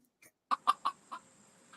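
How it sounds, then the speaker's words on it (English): Aggressive chickens cluck in a short burst of four sharp, loud calls close by, followed by a quieter trailing cluck, with no talking. "You got aggressive chickens there."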